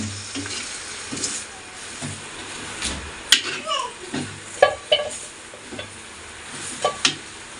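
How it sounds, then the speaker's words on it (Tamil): White pumpkin chicken curry being mixed in a pan, Kerala Palakkad style, with close utensil scrapes and clinks over a constant sizzle, the stirring strokes coming in irregular bursts. "இதை நல்லா மிக்ஸ் பண்ணி விட்டுடலாம்"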